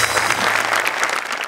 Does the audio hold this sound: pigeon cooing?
no